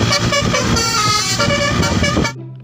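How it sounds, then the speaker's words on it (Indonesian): A toy telolet bus horn plays a loud, melodic multi-tone honking tune, steady and close for over two seconds, then stops suddenly. "Mobil bus telolet"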